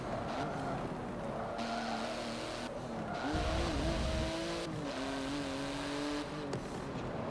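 A race car in the Forza 7 demo drives hard, its engine droning and shifting in pitch with revs, and tires squealing now and then, all loud and continuous with no talk over it.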